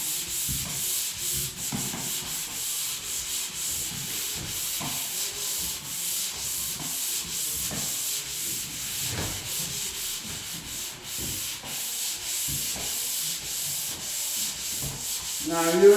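Hand sanding in a high area, with a steady run of rhythmic rubbing strokes close by and no voices throughout.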